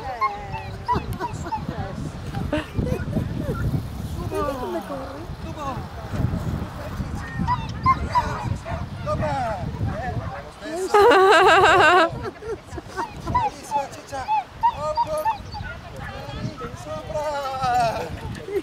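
Dogs bark, yip and whimper excitedly at a dog agility session, mixed with people talking throughout; a brief loud burst of yelping stands out midway.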